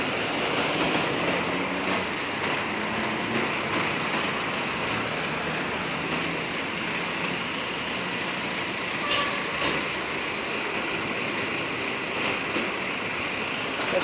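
A Costa Verde G7 Paradiso bus pulls away from Niterói bus station toward Paraty, its engine a steady drone, with short air hisses from the brakes partway through.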